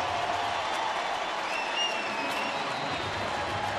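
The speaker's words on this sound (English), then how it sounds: "that's gotten this crowd on its feet here at Great American Ballpark" A baseball crowd at Great American Ballpark applauds and cheers on its feet, a steady distant wash of clapping and voices with faint whistles throughout.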